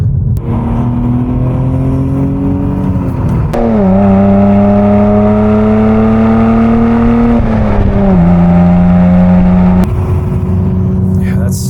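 A loud Cadillac CT4-V Blackwing twin-turbo V6 revs hard and holds steady drones, pitch rising and dropping between shifts, with sharp pops from the exhaust.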